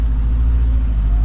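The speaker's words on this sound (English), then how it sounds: "It does rev up a little bit quicker" A Toyota 86 with catless headers gives a brief, loud, deep engine drone, steady and close, with no talking.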